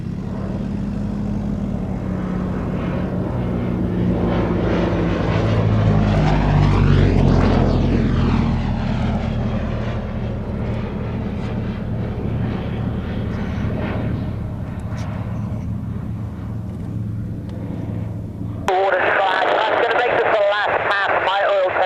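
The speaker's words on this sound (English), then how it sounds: "Avro taxi, hold runway 20, QFE 1023." An Avro vintage aircraft's propeller engine drones at an air show, its pitch sweeping as it taxis past. The sound is loud and steady and ends abruptly, with a voice talking over it.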